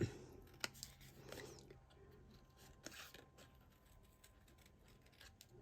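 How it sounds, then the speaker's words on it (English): Scissors fussy-cutting paper for a handmade double Z fold card, with a few quiet, sparse snips and rustles close by and no talking. "a little bit of fussy cutting helps"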